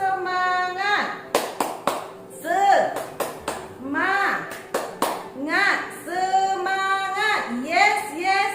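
A class chant with rhythmic hand clapping in sharp patterned bursts, mixed with voices calling out in a bright, lively room.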